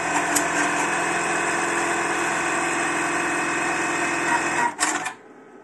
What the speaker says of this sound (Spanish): pisaríamos a fondo para comenzar a coser.